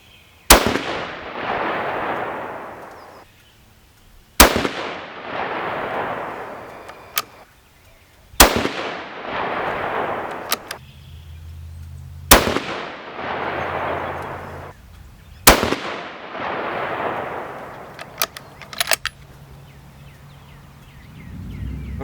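Five loud 6.5 Creedmoor rifle shots firing Hornady 123 grain ELD-M handloads over IMR4350 powder, evenly spaced about four seconds apart, each a sharp close crack with a long fading echo, no talking.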